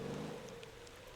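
Rain in the driving game Motor Town falls as a quiet, steady patter over a low vehicle hum, faint and continuous for about a second.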